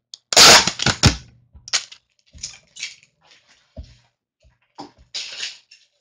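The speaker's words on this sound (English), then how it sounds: "you know how noisy your tape usually is" Adhesive tape ripped off a roll in loud crackling bursts, one long pull at the start followed by several shorter, fainter tearing strips spread apart.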